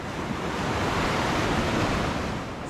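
Sea waves at Kola beach give a steady broad roar of surf, fairly loud and continuous, with some wind noise and no voices.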